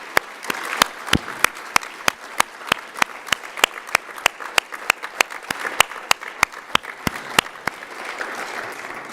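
Clapping at an award dinner, sharp individual claps in a quick regular rhythm, close and distinct over a soft murmur of a room.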